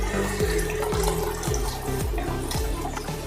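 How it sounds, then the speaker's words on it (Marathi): Hot water poured from a vessel into a pan of spicy Maharashtrian misal curry, a steady splashing pour running throughout at close range with no talk. "आता ह्यामध्ये आपण हे गरम पाणी घालूया"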